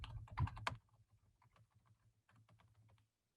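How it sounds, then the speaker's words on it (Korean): Quick clicks of computer keyboard keys, a dense burst at first, then lighter repeated taps continuing at a steady rapid pace, close up, as arrow keys are pressed repeatedly while playing a PyGame program. "근데 계속 연타를 하는 소리가 들리시나요?"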